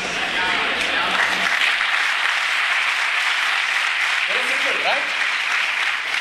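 Students at an engineering college clap together in a hall, a dense continuous wash of many hands sustained throughout, with brief murmurs of voices mixed in.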